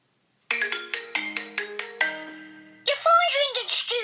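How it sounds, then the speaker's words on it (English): Novelty phone ringtone playing: a bright electronic melody of quick plucked notes, then a high warbling voice-like passage, loud and close with no talk over it. "Your phone's ringing, stupid."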